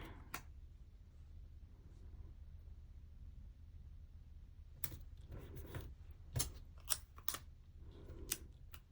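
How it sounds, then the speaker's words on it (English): Scissors snipping through paper while trimming planner pages, a few quick close cuts clustered toward the end after a quiet stretch, with light handling noises between. "I'm going to need to trim a little bit here."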